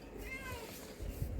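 A kitten in an apartment gives one short, clear meow, followed by soft low thumps and shuffling.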